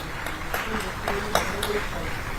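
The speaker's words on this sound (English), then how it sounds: "Let's keep the applause going." Audience applause continues at a university international higher education fair opening ceremony, a steady crowd clapping wash with a few bright pings and faint voices mixed in.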